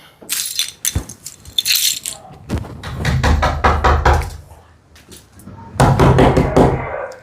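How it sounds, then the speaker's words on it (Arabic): Knocking on a home's front door: a sharp rap, then several bursts of loud, hard knocks spread over a few seconds, close and clear, with no talk over them. "سامعه الباب يا بنتي؟"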